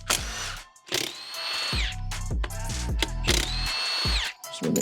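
A power tool spins out engine bolts on a Honda CB500 during a teardown, heard as repeated close, loud whirring bursts with ratcheting clicks between short pauses.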